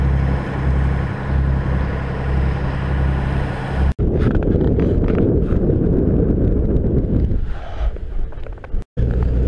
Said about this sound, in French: il y a un vent du nord qui souffle des terres